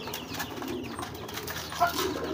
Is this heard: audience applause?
no